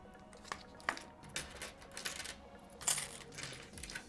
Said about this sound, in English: we're gonna put all of our pennies in here